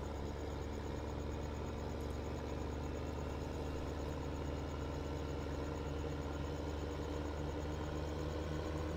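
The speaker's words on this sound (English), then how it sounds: "All right, back in the tractor, and let's head up." A tractor engine drones steadily in Farming Simulator 15, a constant low mechanical hum running unbroken and alone throughout.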